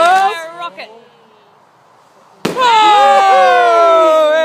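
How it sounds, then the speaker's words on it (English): Firework rockets burst at an outdoor village display: one sharp, loud bang cuts through a quiet lull, while a small child and adults chatter and exclaim close by before and after. "Rocket."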